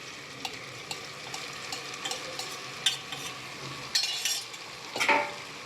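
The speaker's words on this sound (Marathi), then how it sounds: "सोयाबीन मिक्स करून घ्यायची आपल्याला। एक 2 मिनिटं आपल्याला तेलात फ्राय होऊ द्यायचं" Soybeans frying in oil for biryani, a soft continuous sizzle with intermittent spoon scrapes and clinks against the pan, a few louder stirring strokes near the end, close and without talking.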